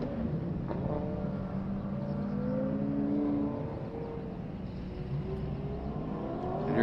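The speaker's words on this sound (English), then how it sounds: "And here comes the M3." BMW M3 race car on a track in a 2021 Memphis session, engine note rising and sweeping past with a passing-by tonal glide, moderately near, then fading into a distant drone.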